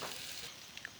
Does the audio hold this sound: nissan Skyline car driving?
no